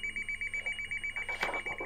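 A phone rings in rapid repeating trills, steady and fairly close, while papers or other objects rustle in the room toward the end.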